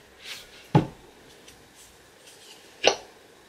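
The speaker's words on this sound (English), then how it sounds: "I got hiccups and I can't stop" Two short, sharp hiccups from a person, spaced about two seconds apart, close to the mic in a quiet room.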